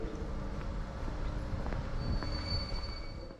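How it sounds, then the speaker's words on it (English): A passenger train pulling in at platform 14 of a Budapest-area station: a steady low rumble of rolling wagons, with faint clicks and a thin, high wheel squeal appearing toward the end, and no talk. "Train arrives from Beach at platform 14"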